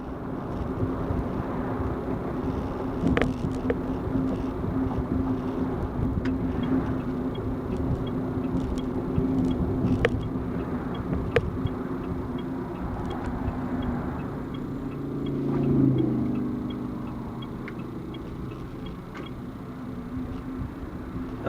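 Mitsubishi i-MiEV electric car rolling through a construction zone over small ruts, a steady low road and drivetrain rumble with a few sharp bumps and a brief swell of thumping near the end.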